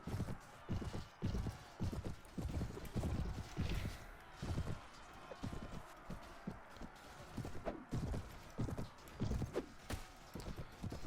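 Horse hooves gallop in the Viking Conquest expansion of the video game Mount & Blade Warband, a fast, steady clip-clop rhythm heard close and continuous, with faint battle noise underneath.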